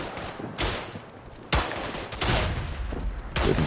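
Gunfire and explosive bursts from the WW1 shooter Tannenberg on the eastern front, with several loud broadband blasts at intervals, around 0.6, 1.5 and 3.4 seconds, over a constant noisy battlefield din.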